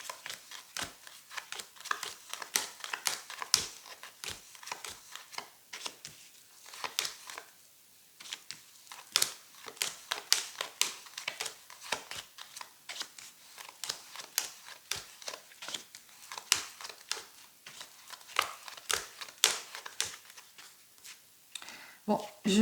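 Cards shuffled and drawn for a new divination reading: a long run of quick, crisp papery snaps and flicks, close and fairly loud, in irregular bursts with brief pauses.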